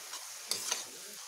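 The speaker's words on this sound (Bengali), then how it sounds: "নুনগুলোকে ভালো করে মিশিয়ে আমি ভেজে নেব" Giant taro stems fry with salt in a pan, a soft sizzle running under a couple of quick, close scraping stirs over just over a second.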